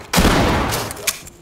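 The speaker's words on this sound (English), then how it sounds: "I'm gonna open it to shotgun." Shotgun blast breaching a door in the tactical shooter Ready or Not: one loud, sharp broadband burst with a lingering rumbling decay and a small secondary crack near the end.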